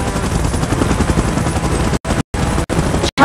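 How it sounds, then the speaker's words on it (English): A helicopter in PUBG Mobile gives a loud, close, continuous rotor thrum mixed with rapid gunfire, cut briefly by several short silent gaps near the end. "Chopper in position."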